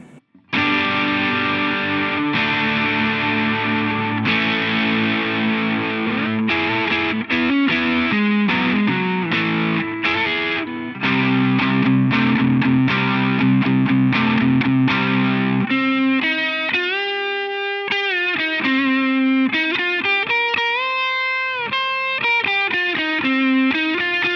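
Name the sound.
electric guitar with humbuckers through overdrive pedal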